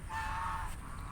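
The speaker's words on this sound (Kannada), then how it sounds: "ಎಷ್ಟು ಸಾಲಾಗಿ ಹೋಗ್ತಾ ಇದ್ದಾವೆ ನೋಡಿ ಬಾತುಕೋಳಿಗಳು" A duck gives a single short, nasal honking call at close range in a large park in Bengaluru, with a faint outdoor background behind it.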